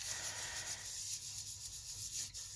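A fingertip rubs loose glitter flakes pressed along a double-sided adhesive line, making a soft, steady, faint scratchy rubbing with no talking.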